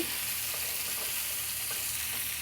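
Chopped onion and two slit green chillies sizzle in mustard oil close by, a continuous dense fry with light scraping and stirring noises running through it.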